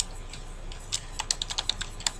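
Someone types on a computer keyboard, making a short burst of close, crisp key taps that get busier in the second half.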